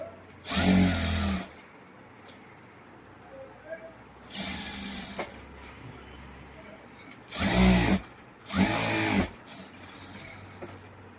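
A sewing machine stitches a blouse neck shape in four separate bursts of fast, whirring runs, each lasting about a second, with quiet pauses of handling between them.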